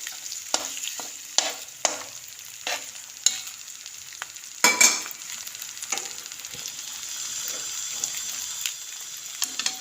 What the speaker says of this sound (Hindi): एक साइड से जब फ्राई हो जाएंगे अंडे, इनको अच्छी तरह फ्राई कर लेना है।